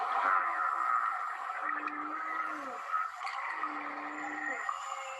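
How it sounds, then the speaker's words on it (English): Whale calls from a recording, with long tonal moans and rising and falling sweeps over a steady background hiss, heard alone at a moderate, even level. "that's a whale."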